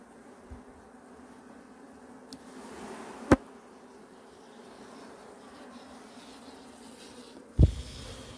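Honeybees buzzing around beehive boxes on a sunny morning, a soft continuous hum with a few sharp knocks and clicks from handling the hives, no talking.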